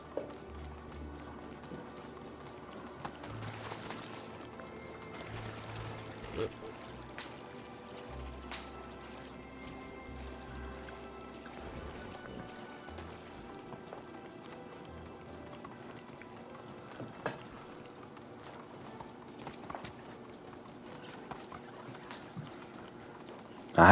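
Horse hooves clip-clop steadily in a video game as the rider travels, a continuous rhythmic patter under a busy game soundscape with low rumbling and occasional clicks.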